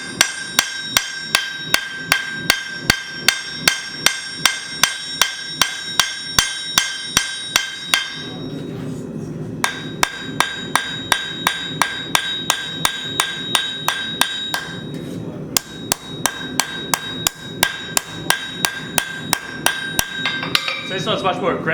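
Power hammer strikes on hot steel while forging a kitchen knife blade, a rapid steady stream of sharp ringing metallic blows in three long bursts separated by brief pauses, loud and close.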